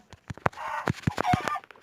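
Rapid Minecraft chicken clucks and squawks, a burst of short choppy calls over a steady higher-pitched background hum, fairly close.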